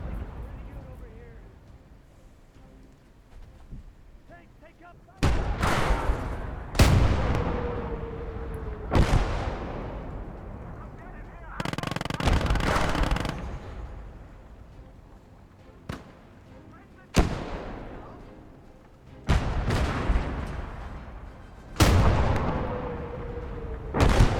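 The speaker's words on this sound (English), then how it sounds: "And the howitzer's happy shooting away." Howitzer artillery in the WWII strategy game Gates of Hell fires repeatedly, about eight loud booming reports spaced a few seconds apart, each with a rumbling tail, while a voice talks over the lulls.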